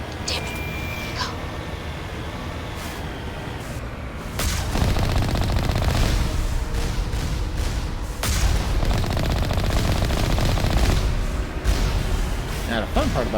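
In the Mass Effect video game, bursts of gunfire aimed at shielded turrets rattle loudly in stretches amid battle noise, with a voice talking over the action.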